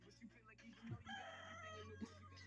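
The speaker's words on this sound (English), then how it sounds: "Her chickens." A rooster crows among chickens outdoors, one drawn-out call in the middle of the clip with softer clucking around it, while people talk quietly nearby.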